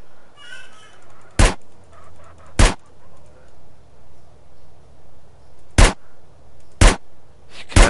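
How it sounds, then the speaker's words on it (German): Gunshots fired at a truck in GTA San Andreas: five sharp, loud single cracks at irregular intervals, standing alone over a quiet, low, pulsing hum. "Ich knall nur auf deinen Truck"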